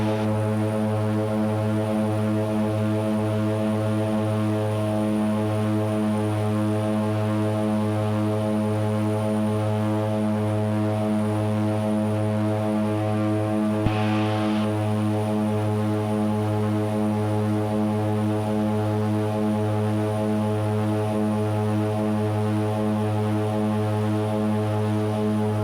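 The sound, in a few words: Twin Otter propeller aircraft taking off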